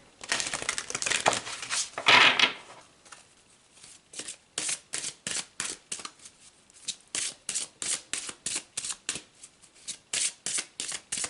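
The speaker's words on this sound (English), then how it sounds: "Let's pull some more cards and look at specific months of the year." Tarot cards being shuffled up close, a dense riffling burst followed by a long run of quick, evenly spaced card snaps and slides with no voices.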